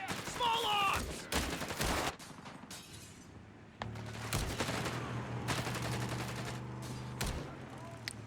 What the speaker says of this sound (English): Under fire! Small arms!